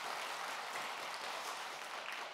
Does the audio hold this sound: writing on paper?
no